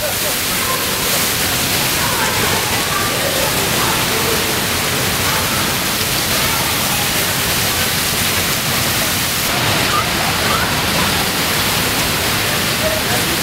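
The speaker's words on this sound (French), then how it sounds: "Alors là il y a un putain de boucan, je pense qu'on est sous les chutes." Roar of Niagara Falls inside the tunnel beneath the falls, a steady, loud, dense rushing wash of water that fills the whole space without pause.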